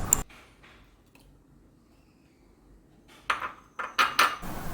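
Soaked flattened rice is mixed with a utensil in a bowl after a little water is added. Sharp clinks and clatter open and close the clip, with a near-silent pause between.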